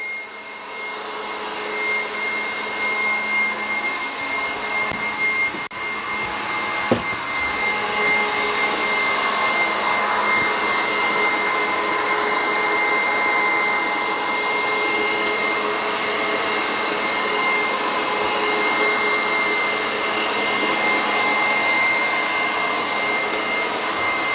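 Steady, loud whir of an electric mixer whipping egg whites to stiff peaks for bread buns, a constant motor drone with a small bump midway and no speech.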